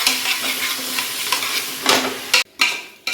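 Onions and tomato fry in a pan for mutton sukka, a loud, close sizzle with rhythmic stirring scrapes, cut by a brief near-silent gap before the frying resumes.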